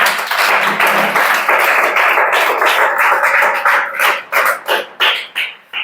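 Hand clapping from a group, a thick wash of claps that thins toward the end into several separate, distinct claps in an uneven rhythm, fairly loud and close.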